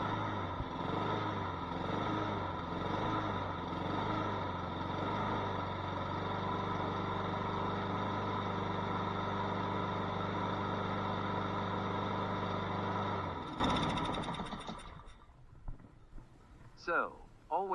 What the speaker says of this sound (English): If it hunts like this and levels out, that's the auto choke working and as normal.